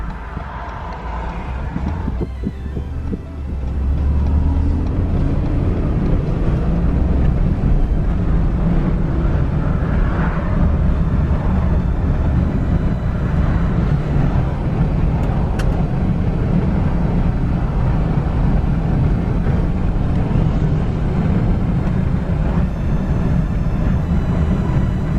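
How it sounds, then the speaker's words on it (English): A rebuilt, previously wrecked 2016 Ford F-150 pickup truck on its first test drive, with a steady, loud engine and road rumble that stays constant throughout and has no talking. "Alrighty guys, so it is time for the first test drive."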